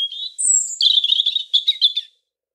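A European robin sings a short, bright, high-pitched phrase of quick twittering notes with a rising whistle, close and clear, then stops.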